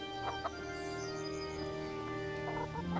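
Chicken clucking in the medieval game Kingdom Come: Deliverance, a few short clucks over a steady ambient game background with a faint low hum.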